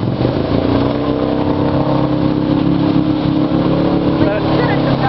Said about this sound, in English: The exhaust is beautiful, isn't it?